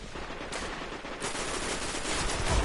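Dense automatic gunfire in the video game Destiny while the player flies, a steady loud barrage of rapid shots with a rumbling low end throughout.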